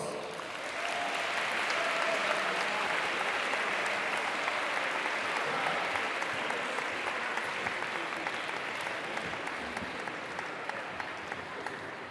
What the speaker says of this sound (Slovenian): prosim za nagrade in občinstvo še za en velik aplavz